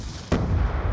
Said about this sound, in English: Tossing flash!